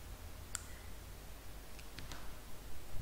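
A mouse clicks on a Finish button, a single sharp click near the start followed by a few faint ticks, quiet and close, with no talking.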